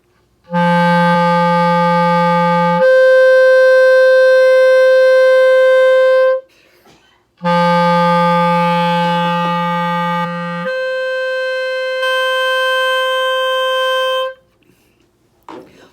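A clarinet holds a sustained reedy upper-register D for several seconds, repeated twice with slight tone changes, clear and close with no talking.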